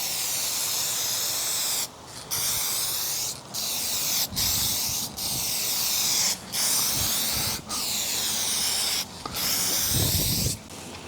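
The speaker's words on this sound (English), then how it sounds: "let's try to see what we can do with one quick hit of clear coat" A spray can lays down clear coat in a series of hissing bursts, about eight sprays separated by brief pauses, close to the microphone.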